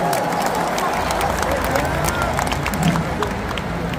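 A large concert crowd at a stadium claps and cheers as band members are introduced, a thick continuous roar of applause with sharp claps poking through and an amplified voice over it.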